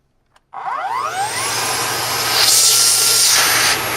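A Dyson D22 vacuum cleaner switches on with a sudden whoosh and a rising motor whine that climbs in pitch, then holds a loud, steady roar with a brief airy surge near the end.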